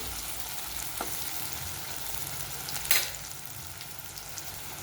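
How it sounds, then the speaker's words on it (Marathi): Onion sautéing in a pan gives a soft, steady sizzle throughout, with a couple of brief clinks from stirring near the start and middle and no voices. "छान असा हा कांदा मऊ होईपर्यंत आपल्याला परतून घ्यायचा"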